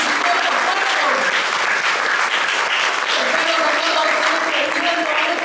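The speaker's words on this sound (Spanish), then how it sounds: "Un aplauso al Rey porque resucitó de los muertos." A church congregation applauds during a sermon on the resurrection, with thick, continuous clapping at a steady level throughout, mixed with faint crowd voices.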